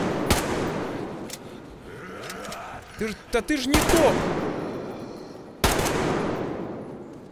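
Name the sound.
gunfire from a gun in Metro Exodus video game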